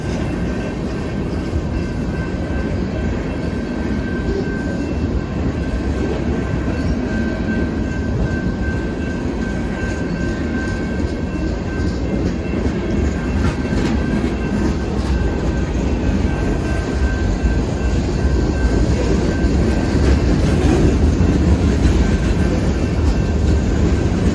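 Very long freight train Y220 passing close by, a loud continuous rumble and rolling clatter of cars on the rails that holds steady throughout, with a faint high tone above it and no talking.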